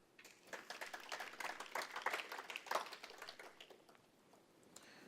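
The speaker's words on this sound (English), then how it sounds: "You guys should clap for him because that was awesome." A small audience at a student speaker-series talk claps for a few seconds, a faint, distant patter of scattered hands that swells briefly and then thins out, with no speech over it.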